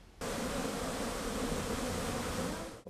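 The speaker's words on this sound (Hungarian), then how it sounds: "a kelleténél egy hónappal korábban kirepültek a méhek a kaptárakból" Honeybees fly out of their hives, a dense, steady buzzing swarm that starts abruptly and holds at an even, fairly loud level without any talk.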